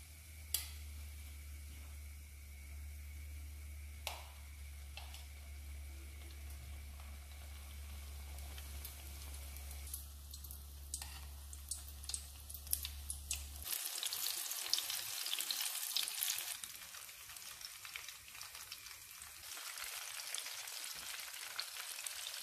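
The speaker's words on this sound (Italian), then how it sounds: "Queste frittelle vanno fritte con il gas al minimo" Steady sizzling of fritter batter frying in hot peanut oil over low gas, a continuous crackling hiss with scattered pops, growing brighter and busier partway through.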